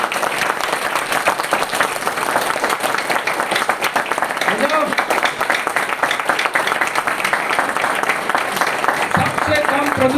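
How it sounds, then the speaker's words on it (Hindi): Loud, sustained applause from a large crowd at a religious discourse gathering, dense continuous clapping throughout with a voice faintly audible beneath it. "तो जोरदार तालियां होनी चाहिए"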